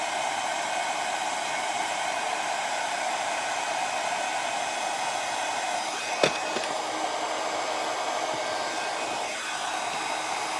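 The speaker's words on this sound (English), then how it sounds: "Just make sure you're moving your heat gun." A handheld heat gun blows hot air steadily onto a stencilled glass vase, a constant loud hiss with no break in the airflow for the whole stretch and a single faint click partway through.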